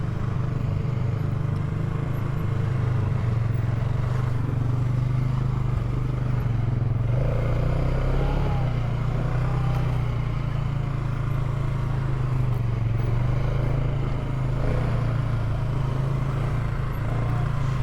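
An off-road vehicle crawls over rocks in Johnson Valley in four-wheel drive low, its engine a steady low drone close by, with faint clatter and creaks from the rocks and no speech.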